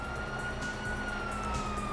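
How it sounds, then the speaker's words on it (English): A video game police siren wails steadily at a moderate distance over a low engine hum, continuous with no voices. "you hear that? Siren."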